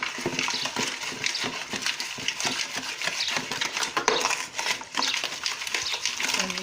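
A utensil stirs three eggs and a couple of pinches of salt in a bowl for homemade bread, making steady close clinking and scraping against the bowl throughout, with no talking.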